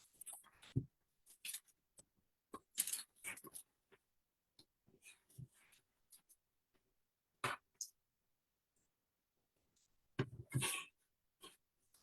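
Scissors snip through a paper sewing pattern in short, separate bursts of cutting with quiet pauses between them, close and fairly faint, with no talking.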